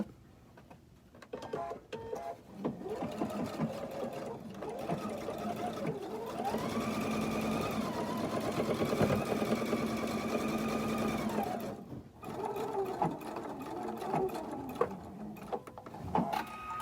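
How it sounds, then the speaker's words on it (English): Sewing machine topstitching the seam allowance on an outdoor cushion cover, a close steady whir running for several seconds between quieter handling sounds before and after. "Now I'm going to do the same thing and top stitch my seam allowance down."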